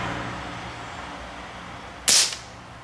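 A Crosman MK-177 multi-pump pellet and BB air rifle fires a single sharp, loud crack near the end after a stretch of quiet background hiss, followed by a brief faint ring.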